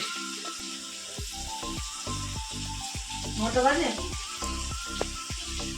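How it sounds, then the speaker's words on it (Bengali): Cauliflower and potatoes fry in a pan with a steady sizzle, while clinks and scraping stir sounds punctuate it in a regular rhythm and a voice briefly speaks over it. "ফুলকপি আর আলু ভাজা করছে"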